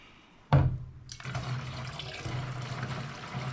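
Tap water pours steadily into a container, filling three gallons for a German Hefeweizen home beer brewing kit, starting with a sudden splash and continuing as a constant rushing flow, close and fairly loud.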